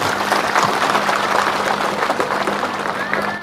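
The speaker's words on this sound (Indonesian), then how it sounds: "Tepuk tangan dulu." An audience applauds, a dense, steady wash of many hands clapping at moderate loudness, with a faint hum and scattered voices underneath.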